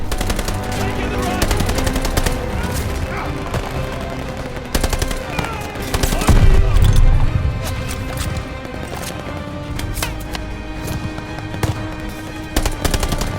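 Sustained machine gun fire in the Call of Duty: Vanguard battle, rapid loud bursts and rattling volleys with heavier impacts mixed in, continuing throughout amid shouted voices.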